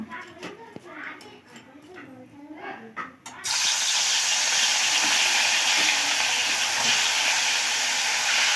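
A voice and kitchen clatter come first, then salt- and turmeric-coated fish pieces drop into hot oil in a wok and a sudden loud, continuous sizzle takes over for the rest of the clip.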